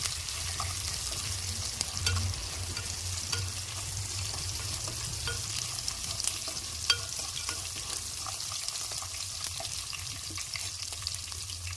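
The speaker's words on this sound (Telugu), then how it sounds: "ఆనియన్ కూడా ఫ్రై కావాలి." Onions frying in a pan for tamarind-leaf fried rice, a steady close sizzle with light scraping stirs throughout, no talk.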